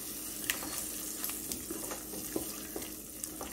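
A spoon stirs chilli powder, turmeric and chole masala through a pan for black chana masala, giving a steady close hiss and sizzle broken by sharp scraping clicks against the pan, with no talking.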